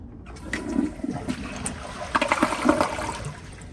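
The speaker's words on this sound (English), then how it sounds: "So here's the second flush." Second half flush of a 2014 Glacier Bay elongated dual-flush toilet, a close rushing swirl of water that rises, surges near the end and drains away, with no one speaking.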